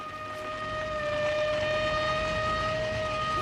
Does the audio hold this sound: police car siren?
yes